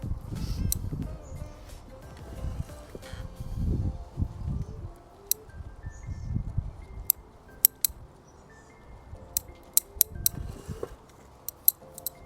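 Pruning shears make a series of sharp, crisp snips on bonsai branches during a midsummer cutback, scattered irregularly amid soft rustling of foliage, fairly close and clear.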